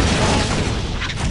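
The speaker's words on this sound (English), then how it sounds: "I got a big ass cannon." A big cannon firing in the video game Torchlight 2, one loud, dense booming blast that fills the short moment with a heavy rumbling low end and no talk.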